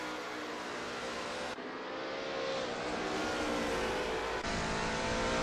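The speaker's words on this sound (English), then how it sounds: "Kevin Lekmansky is just a few car lengths behind Narwhal." Lola T70 MkII Spyder race cars lapping Kyalami's 1967 layout in a racing video game, with a loud, continuous engine roar that holds steady throughout, broken by brief dips and cuts.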